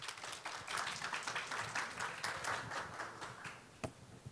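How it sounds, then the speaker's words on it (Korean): Audience at a startup ESG and impact investment conference session applauds to welcome the moderator, a steady, fairly faint wash of clapping with no talk over it. "큰 박수 부탁드립니다."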